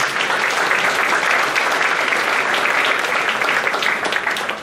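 A congregation applauds inside an evangelical church in Peru, steady dense clapping that holds at full loudness throughout before easing slightly at the end.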